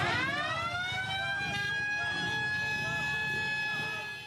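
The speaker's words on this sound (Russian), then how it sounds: "Под звуки боевой сирены к месту акции подъезжает колонна мотоциклистов." A wailing air-raid siren sounds continuously and fairly loud, its pitch rising and falling, over a low rumble of an approaching motorcycle column.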